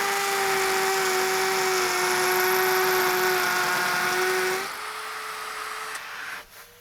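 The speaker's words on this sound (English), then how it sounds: "this particular drill on hammer on speed 2." A power drill runs on its hammer setting at speed 2, a loud steady high-pitched whine with a rattling hammer buzz, then it drops in pitch and winds down near the end.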